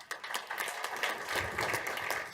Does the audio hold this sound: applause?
yes